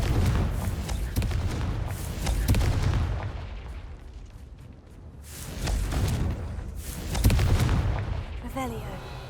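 The Confringo blasting spell in Hogwarts Legacy sets off repeated heavy booms and crackling blasts that swell and fade over a rumbling game soundscape.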